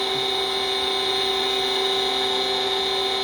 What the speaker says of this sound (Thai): นี่ปั๊มหน้าสามนะครับ ก็ฟังเสียงเอานะครับพี่น้อง